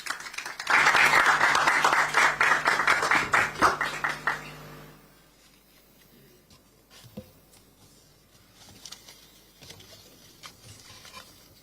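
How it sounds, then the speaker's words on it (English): An audience at an evening professional speaker series applauds to welcome the speaker, a dense burst of clapping for about four seconds that dies away, followed by faint scattered knocks and rustling in a quiet room. "Please, let's welcome our speaker with a round of applause."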